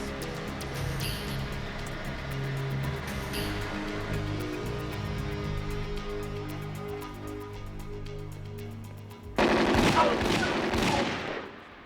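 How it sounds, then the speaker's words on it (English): Rapid bursts of gunfire from a television drama come over a tonal background. Quick rattling volleys sound early on, and a louder, harsher burst of shots arrives near the end. "Nice shooting."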